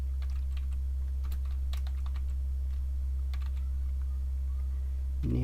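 Keys clacking on a computer keyboard while code is typed to pull active compound data from a database, with irregular clusters of clicks over a steady low electrical hum.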